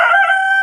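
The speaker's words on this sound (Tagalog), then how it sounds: "bibigay na tayo ng pagkain ng ating mga alagang manok" A rooster crows once, loud and close, a single short strained call during morning feeding on a small farm.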